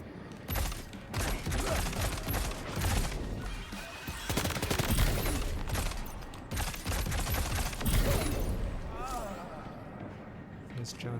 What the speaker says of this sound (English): Oh shit, they're firing back!